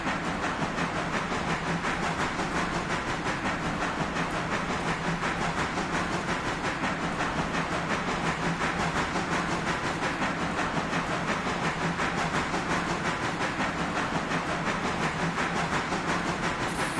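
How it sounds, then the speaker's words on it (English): A railway locomotive runs on tracks in a railroad simulator game, a dense, steady rumble and hiss with faint rhythmic clatter, continuous and loud for the whole stretch. "Locomotive."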